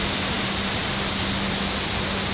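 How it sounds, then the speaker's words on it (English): Indoor waterfall in the Jewel garden at Changi Airport, Singapore, a soft, continuous rushing hiss heard at a distance, even and unbroken. "they have an indoor garden and an indoor waterfall that is absolutely sublime"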